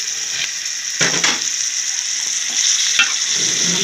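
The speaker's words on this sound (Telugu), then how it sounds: "మసాలా అంతా ఫ్రై అయింది కాబట్టి అందులో ఈ చికెన్ కూడా మళ్ళీ ఫ్రై అవుతుంది." Chicken pieces frying in masala in a pan, a steady loud sizzle with occasional scraping stirs of a spoon throughout.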